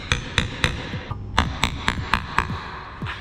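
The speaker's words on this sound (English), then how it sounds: "I got my 3/8 inch chisel, and I'm going to kind of go gently and kind of mark where I want the" A chisel, 3/8 inch, is struck about a dozen times with a hammer to mark out a mortise in wood. The sharp, close knocks come in a steady rhythm, with only short pauses between them.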